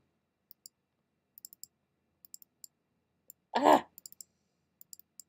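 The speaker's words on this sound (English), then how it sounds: "I'm double clicking and I should be single clicking." Computer mouse clicking quietly in pairs and singles, sharp tiny ticks spread through an otherwise quiet room while designing cards in Design Space, with a brief breath or sigh in the middle.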